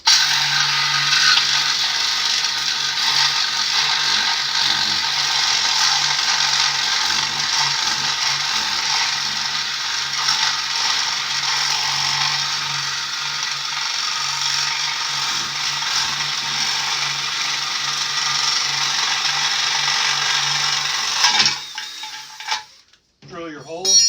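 Long 7/8 inch spade bit drilling a center hole in a statue: a steady loud grinding, rattling whir that runs continuously for about twenty seconds before stopping with a few knocks.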